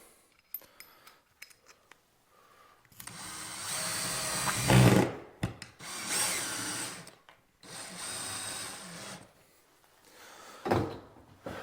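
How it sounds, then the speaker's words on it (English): Power drill driving screws to fix a template in place during a whole house fan install, long loud whirring bursts with brief pauses between them and sharp handling knocks at the start. "So I'm going to run screws up"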